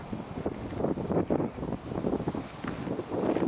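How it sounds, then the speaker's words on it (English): Gusting wind on a countryside stretch of the Camino de Santiago near Astorga buffets the microphone in loud, uneven low rumbles and surges, with no talking. "It's a little bit windy today."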